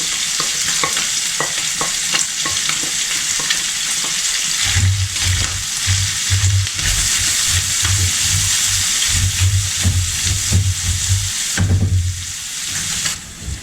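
Chopped onion frying in a pan of hot fat, a loud steady sizzle close up, with a rhythmic low scraping of stirring partway through and no voices.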